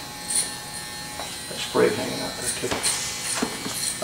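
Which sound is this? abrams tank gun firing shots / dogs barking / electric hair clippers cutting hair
electric hair clippers cutting hair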